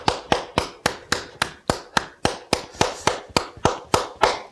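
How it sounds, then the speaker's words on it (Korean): A church congregation claps hands together in a slow, very even beat, about three claps a second, each loud and crisp with a short ringing decay, with no talking over it. "우리 박수 한번 쳐볼까요?"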